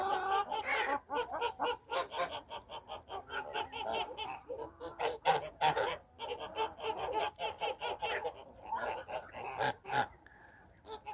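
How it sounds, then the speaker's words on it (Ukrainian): Kholmogory geese honk repeatedly at close range, a busy overlapping chorus of nasal calls with brief gaps, continuing throughout. "Дві ось таких красивих голубих гусочки холмогорки молоденьких."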